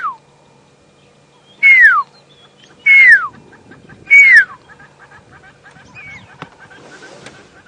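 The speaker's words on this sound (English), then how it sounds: "He's calling back to me. I love pearl-spotted owlets." A pearl-spotted owlet calls on a safari drive with three loud, descending whistles evenly spaced, followed by a quieter run of short repeated notes against a faint outdoor background.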